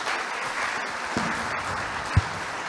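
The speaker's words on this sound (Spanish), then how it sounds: "Un aplauso para nuestro conferencista de hoy" Audience applause for a lecturer at the end of a talk on Freemasonry, a steady, dense spread of clapping with a couple of louder thumps near the end and no talk.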